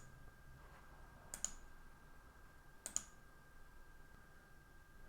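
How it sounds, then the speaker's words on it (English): A computer mouse clicks twice in a quiet office, two faint, sharp ticks spaced a second or so apart over a low steady hum. "if we just click on save"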